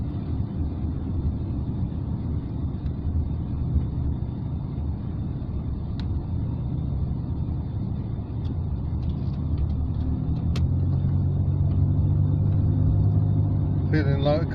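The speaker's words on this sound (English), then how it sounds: "here we are, driving around London" A Rover car drives through London traffic, with a low, steady engine and road rumble heard from inside the cabin, a brief click or two and some faint speech near the end.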